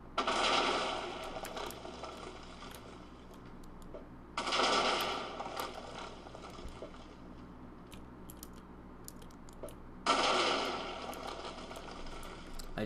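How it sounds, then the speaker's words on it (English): A handheld railgun rifle in Minecraft fires three times at regular intervals, each shot a sharp burst followed by a fading mechanical whine and hum, moderately loud. "I just love that initial explosion."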